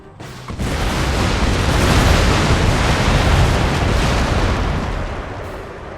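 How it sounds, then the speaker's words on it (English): A rocket barrage fired in Empire: Total War, a loud, sustained roaring rush of launches and blasts lasting about five seconds before tapering off. "Out goes another rocket barrage."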